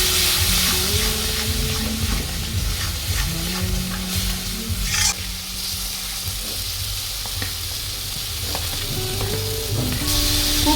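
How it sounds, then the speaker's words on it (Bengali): Spice paste with Kashmiri chilli powder and a little water for a koi fish curry sizzles and fries in a pan, with a steady close hiss and repeated scraping strokes of a spatula, no talking. "এখন মশলাটাকে খুব ভালোভাবে আমি কষিয়ে নেবো"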